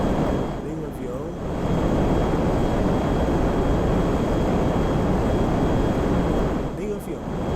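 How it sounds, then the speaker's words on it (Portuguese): An airplane flying in GTA 5, a steady broad roar that swells and holds for several seconds. "Tem um avião."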